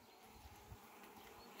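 Honey bees buzz steadily around a marked queen being lifted off a hive frame with her attendant workers, a dense close hum with no talking.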